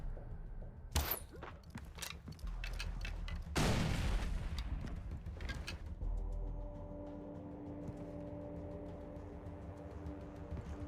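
A grenade explodes in Far Cry 3, a loud, broad burst of noise lasting about a second near the four-second mark, with a sharp crack earlier, scattered shots and game music fading in afterward.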